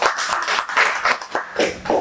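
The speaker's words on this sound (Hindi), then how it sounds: "एक बार मीनाक्षी जी के लिए हम सभी लोग ताली बजा लें" An audience at a mind power workshop claps, a burst of many hands with a fairly steady, dense rhythm lasting throughout.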